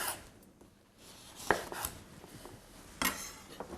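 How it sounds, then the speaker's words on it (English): A knife cuts through a lemon on a board, giving a few distinct, close chopping knocks spaced over a quiet, faint kitchen background. "So just going to slice one lemon."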